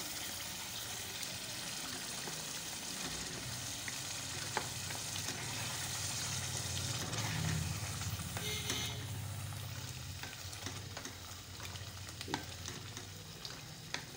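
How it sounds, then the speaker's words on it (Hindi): Chicken karahi cooks with yogurt in a karahi at a Pakistani food street stall. A steady, dense sizzle fries on throughout, with faint scraping and stirring and occasional clinks, and there is no talking. "आपने दही डाल के थोड़ा सा भूनते हैं।"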